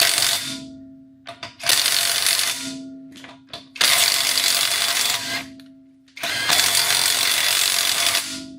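A battery-powered impact tool hammers loose tight bolts in long loud buzzing bursts, four main runs with short stuttering pulses and brief pauses between them, close by.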